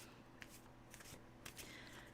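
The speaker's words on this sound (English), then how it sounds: "I got to shuffle through 7 times" Deck of Russian Gypsy fortune-telling cards being shuffled, soft papery riffles and flicks in quick bursts, faint and close with no talk over them.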